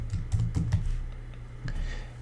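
Keys on a computer keyboard tapped in a short run of close, quick clicks while a material name is typed into Cinema 4D's material manager, then a brief pause and a few more taps over a low steady hum.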